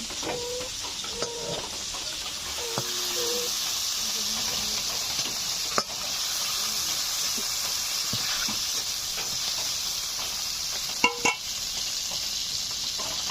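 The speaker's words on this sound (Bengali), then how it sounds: "চিংড়ি মাছগুলো ভেজে নিয়েছি, তুলে নিচ্ছি আর কুমড়োগুলো এখন ভেজে নেব।" Pumpkin pieces fry in oil already used for frying prawns, giving a steady hiss and sizzle with a few faint knocks and clinks from a utensil.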